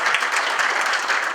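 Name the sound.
audience applause for the speaker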